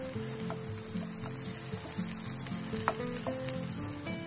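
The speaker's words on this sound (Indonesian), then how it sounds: "kemudian kita tumis bawang merah yang sudah diiris, kira-kira 5 siung" Sliced shallots, about five, sautéing in hot cooking oil give a steady close sizzle and crackle that runs throughout, with occasional stirring clinks and faint background voices.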